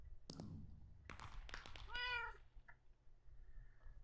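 A video game cat in Minecraft gives a clear, drawn-out meow after a few clicks and thumps, close and fairly loud, followed by quieter background noise.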